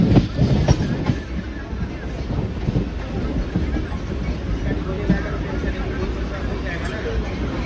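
A local train at Badlapur station rumbles and clatters steadily, with rhythmic rail knocks and a murmur of crowd voices in the background.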